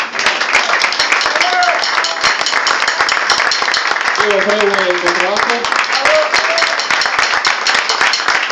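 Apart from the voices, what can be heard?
audience applause for the musicians at a jam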